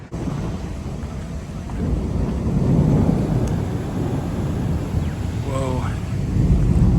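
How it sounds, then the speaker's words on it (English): Thunder rumbles low and heavy through a rain thunderstorm on a mountain pass, rolling continuously under wind buffeting on the microphone and steady rain, with a brief tonal voice-like sound near the end. "Got a lightning storm here."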